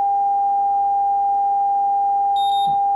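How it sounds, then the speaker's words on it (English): A steady, pure sine-wave test tone holds loud and unbroken at one pitch, alongside a faint low hum, with a brief higher beep near the end. "There's a sine wave."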